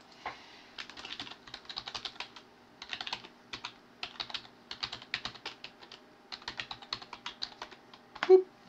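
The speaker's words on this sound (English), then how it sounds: "I'm going to type my email address in here" Rapid bursts of typing on a computer keyboard, keys clattering in quick irregular runs with brief pauses between words, fairly close and clear, ending with one louder key tap.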